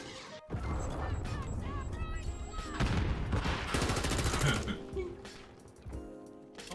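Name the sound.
gunfire in a video game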